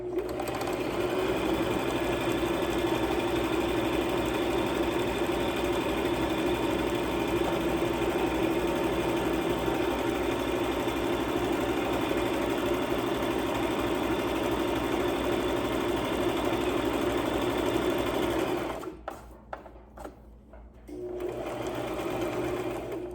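Sewing machine stitching a log cabin pillow, a close, continuous mechanical whir running steadily for a long stretch before stopping briefly and starting again.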